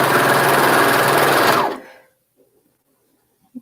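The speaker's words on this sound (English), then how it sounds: "One thing I like about using that serger is you get a nice tight" Serger overlock sewing machine running loud and steady for about a second and a half, then stopping abruptly, followed by near silence with a couple of faint clicks.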